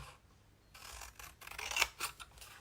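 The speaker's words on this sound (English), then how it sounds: "use the big scissors for cutting out sentiments because I can cut all in one go" Large scissors slicing through paper to cut out sentiments for a colouring craft, a quiet run of crisp snipping and rasping strokes that builds toward the end.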